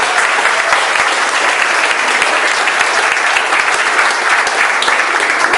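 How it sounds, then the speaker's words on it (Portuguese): Congregation clapping hands at a Pentecostal church service, a dense, steady roar of applause that stays loud and even throughout with no pauses. "Bate as palmas."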